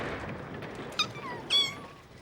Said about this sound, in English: Quick as a wink, Alfie covered the cat and her kittens with his scoop